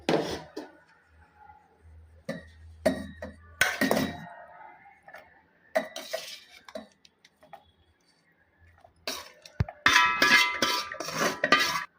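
Paneer gravy ingredients go into a mixer grinder jar, heard as scattered clinks and knocks of utensils against the jar, with a busier run of clattering toward the end.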